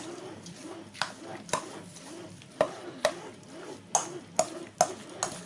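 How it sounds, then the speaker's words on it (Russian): A wet, squelching stir of a dense minced meat filling with a little water, for Tatar peremech pastries, with repeated soft sloshing strokes and sharper scraping hits toward the end, close by. "И все это хорошенько перемешаем."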